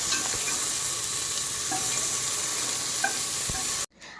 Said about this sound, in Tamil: அண்ட் அதோட ஒரு தக்காளி ஆட் பண்ணுறேன்.